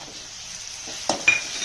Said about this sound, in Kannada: ಮೀಡಿಯಮ್ ಉರಿ ಇಟ್ಕೊಂಡು ಈರುಳ್ಳಿ ಟೊಮೆಟೊ ಮೆತ್ತಗಾಗೋರು ಕೂಡ ಫ್ರೈ ಮಾಡಬೇಕು.